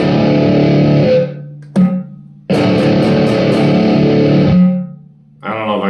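Loud, heavily distorted metal riffs from an electric guitar on a humbucker pickup in a 1987 Charvel, played in bursts with sudden stops, a short stab, and a final chord that rings out and fades.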